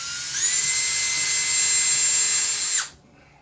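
A power drill bores a hole for a TV wall mount, whining steadily and close for almost three seconds before stopping abruptly.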